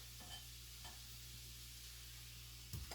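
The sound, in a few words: steak sizzling as it is added back into the pan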